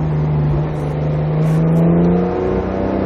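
A Porsche GT3 RS accelerates hard on a racetrack, its engine a loud, steady, rising close drone with strong harmonics, no voices.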